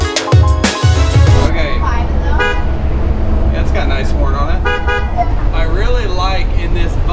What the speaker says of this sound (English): it's got a nice horn on it.